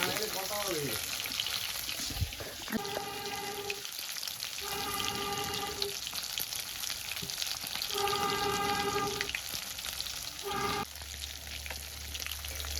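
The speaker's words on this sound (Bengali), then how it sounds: "মাছ ভাজা হয়ে গেছে, আমি তুলে নিচ্ছি এখন" Small fish sizzles steadily in hot oil in a pan while pieces are lifted out, with a continuous close crackle and some faint tonal sounds in the background.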